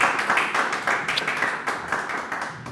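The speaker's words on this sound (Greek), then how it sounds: "πάμε ένα μεγάλο χειροκρότημα για τα παιδιά που σήμερα ήταν εδώ κοντά μας" A television studio audience claps together in a dense, steady burst of applause that slowly tapers toward the end.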